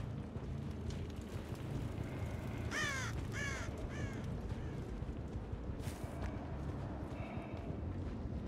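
Crows cawing in a Dead by Daylight match map, a few harsh caws in short clusters over a steady dense ambient game rumble, moderately distant, with no speech.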